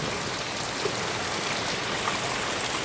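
Heavy rain falling in a steady, unbroken rush, loud and close, with no voices.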